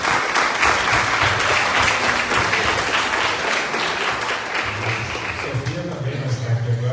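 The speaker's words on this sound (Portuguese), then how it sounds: "Olha só, uma salva de palmas para eles." Congregation applauding during a Baptist church service, a dense, steady roar of many hands that holds for the full stretch with voices murmuring underneath and a low hum beneath it all.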